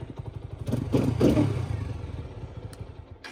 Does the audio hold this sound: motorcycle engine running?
yes